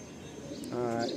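Pigeons in a loft, a short soft coo rising near the end over a busy background of nearby bird chatter, lasting about a second.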